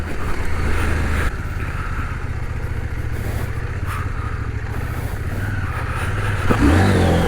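A CF Moto 800MT adventure motorcycle riding off-road, its engine droning steadily close by with shifts in pitch and a rise in revs near the end, wind and clatter mixed in.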